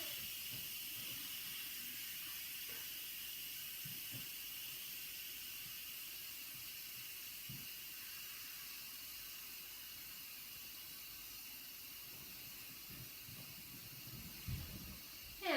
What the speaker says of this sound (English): Still releasing pressure.